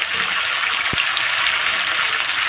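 Chopped onion and tomato hitting hot oil in a pan give a steady, loud, bright sizzle throughout, with a single low knock near the start.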